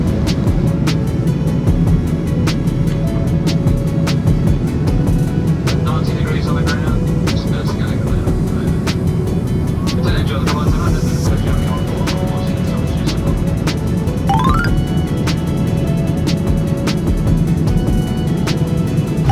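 Steady, loud airplane cabin roar during descent toward Osaka on a Jetstar flight from Sydney fills the whole stretch, with faint muffled voices and small clicks and chimes in the background.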